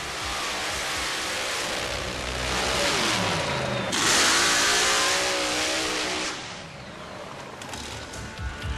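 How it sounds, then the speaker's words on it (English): An all-aluminum 588 cubic inch nitrous-burning mud racer engine revs loudly and up close, rising in pitch to a roaring peak, holding, then dropping back to a rough idle, with no talk over it. "An all-aluminum 588 cubic inch nitrous-burning engine built by Jerry Janke has helped pilot George"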